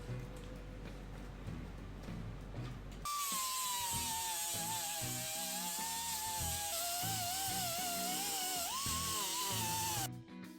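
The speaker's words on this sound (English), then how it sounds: "I use a die grinder or a mini sander" A die grinder or mini sander grinds fiberglass bodywork on a Pilgrim Cobra kit car, its high-pitched whine starting up abruptly and running steadily, shifting in pitch under load, close by and loud.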